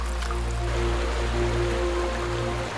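Meltwater from thawing snow rushes and trickles along a stream in spring, a continuous close watery wash with a low rumble beneath.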